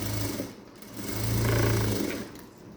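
A sewing machine stitches the lining of a princess-cut blouse along an existing seam. The motor hums steadily in two runs, the second one longer and louder.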